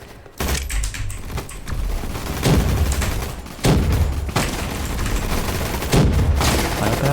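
Gunfire in the Roblox game Gunfight Arena, repeated loud bursts of shots in several clusters over continuous game noise, close and punchy.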